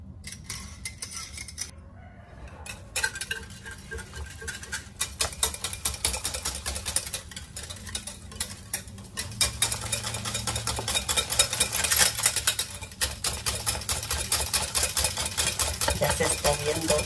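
Yogurt bread batter being mixed in a bowl, with a continuous, fairly close scraping and clinking of utensil against the bowl in quick, uneven strokes that grow busier toward the end.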